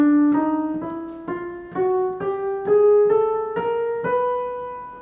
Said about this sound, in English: We have 12 different pitches in Western music, and they sound like this.